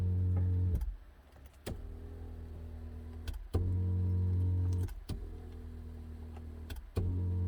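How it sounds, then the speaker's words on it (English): Power seat in a 2011 Ford F150 running back and forth, a steady electric motor hum that stops and starts again with clicks between runs, close and quiet. "The seat's going back and forth as I'm playing with the ignition key."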